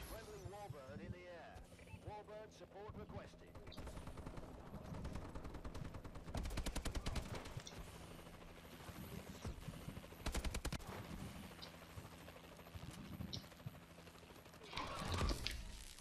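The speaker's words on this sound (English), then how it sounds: "Why am I getting shot everywhere?" Gunfire in the video game Call of Duty Advanced Warfare, with dense bursts of shots and game effects throughout, loudest in clusters near the middle and end, while a player talks over the action.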